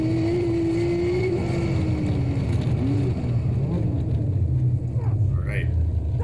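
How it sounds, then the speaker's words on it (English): A Mazda Miata at an SCCA autocross pulls hard and its engine note climbs, then dips briefly as it shifts into third gear and rises again, a steady loud rumble heard from inside the car. "He's going to end up hitting third gear in his Miata here."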